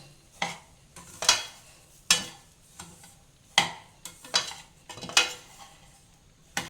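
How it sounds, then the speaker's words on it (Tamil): Semolina (rava) dry-roasting in a pan over low heat while a spoon stirs it, giving sharp intermittent scrapes and clinks against the metal at an uneven rhythm, close and clear, with no talking. "இதை சிம்மில் வச்சுட்டு அப்படியே ரவையை வறுத்துடலாம்"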